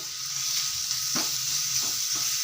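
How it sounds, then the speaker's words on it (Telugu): Grated carrot fries slowly in a pan over a low flame, giving a steady soft sizzle with a few scraping stirs of a spatula, close and without talk. "బాగా ఇది సిమ్లో పెట్టి వేయించుకోవాలండి సిమ్లో పెట్టుకొని వేయించుకుందాం నిదానంగా వేయించుకోవాలండి"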